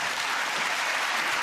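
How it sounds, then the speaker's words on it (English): A television comedy panel show's studio audience gives loud, dense applause, an unbroken roar of clapping from a large crowd. "I think you were very quick to give yourselves a round of applause."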